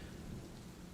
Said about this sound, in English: you guys can hear the rain and thunder right now